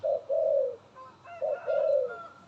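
Soft low cooing from a white-spotted dove, two short phrases of repeated hoots, close and clear against a quiet background.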